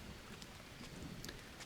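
Rain in a video game during a rainy season: an even, continuous patter of drops with a few brighter splashes near the end, steady and soft, with no talk.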